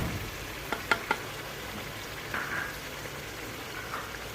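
Tomatoes and green chillies dropped into a sizzling pan of spiced taro and meat: a steady, fairly quiet frying hiss with a few light taps and clicks near the start.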